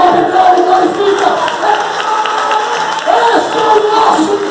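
A church congregation cheers and shouts praise during a Bible message, a loud continuous crowd roar with whoops and raised voices close by, scattered clapping blended in.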